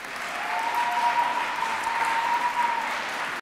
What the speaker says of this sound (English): Please give all of these girls a round of applause.